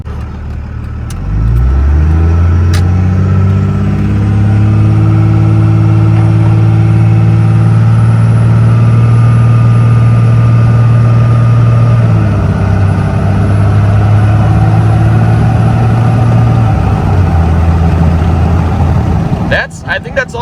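A 2002 Dodge Ram Cummins diesel truck with transmission problems drives along, its loud engine drone climbing through the gears and settling into a steady hum after shifting into overdrive, heard from inside the cab.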